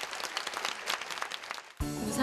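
A concert audience at a tango festival applauds after the final piece, a steady wash of clapping that cuts off abruptly into a tonal sound.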